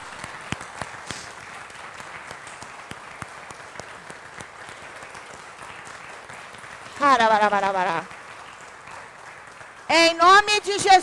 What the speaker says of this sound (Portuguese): então, bate palmas agora e louva.